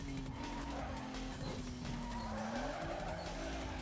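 A Toyota Supra races through Need for Speed Most Wanted with a droning engine note and steady tyre skid noise, loud and continuous throughout.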